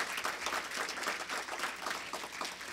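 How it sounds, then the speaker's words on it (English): A seated audience at a community diversity discussion applauds its panelists, a dense steady wash of many hands clapping together for a few seconds without a break. "Can we give our panelists another applause,"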